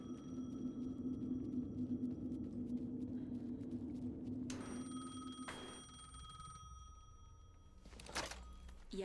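A telephone rings in the video game Alan Wake 2, with repeated ring bursts over a low ambient drone; the ringing grows more distinct in the second half and is heard alone, with no talk.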